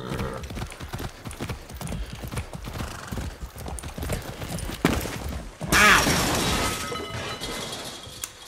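Horse hooves clip-clop steadily in the video game Far Cry 6, punctuated by a whinny and a louder crashing clatter late on, with only faint voice in the background.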